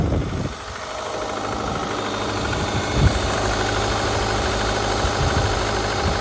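An EJ25 engine in a rusty, high-mileage East Coast car idles with a steady, dense mechanical knock and misfire, close and constant for the whole stretch, with a brief louder thump near the middle.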